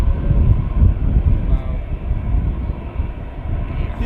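An airliner takes off at Manchester Airport, its engines giving a steady loud roar that fills the whole clip with a deep rumble and slowly eases off slightly.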